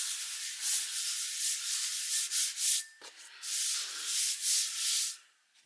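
Rough 60-grit sandpaper rubs back and forth over a metal anvil in a workshop, making a harsh, hissing scrape in repeated strokes with one brief break, close and fairly loud, then fading out at the end.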